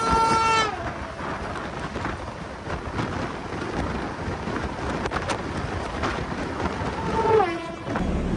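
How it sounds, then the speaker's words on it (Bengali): The Dibrugarh–New Delhi Rajdhani Express pulls out of New Jalpaiguri Junction, its horn sounding at the start and again near the end over a steady, rumbling roll of wheels and carriages. "নির্ধারিত সময় সবুজ সংকেত পেয়ে ট্রেন আমাদের রওনা দিল নিউ জলপাইগুড়ি জংশন থেকে"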